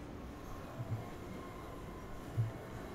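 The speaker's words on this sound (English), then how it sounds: "Sounds like a train." A train passing in Half-Life 2 gives a faint, low, continuous rolling rumble with a couple of soft clunks, distant and steady.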